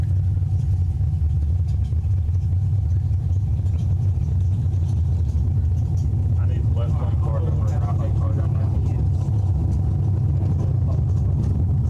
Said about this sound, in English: Neat little third-gen Camaro there.